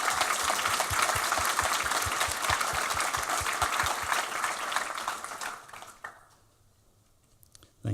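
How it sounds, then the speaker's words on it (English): A panel audience gives the event crew a round of applause, dense clapping that holds strong for about five seconds and then fades out, leaving a quiet room. "Can we get a round of applause for the crew that put this thing together?"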